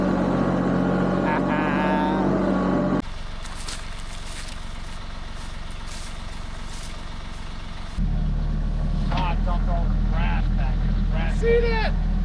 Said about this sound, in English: We got the backhoe attached. Let's go dig a hole